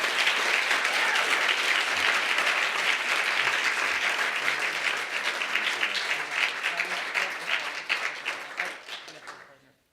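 A lecture audience at an evening distinguished lecture claps in warm, sustained applause that stays full and dense, then tapers and fades out at the end.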